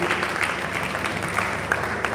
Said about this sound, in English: A one round of applause for Chief Ayahu.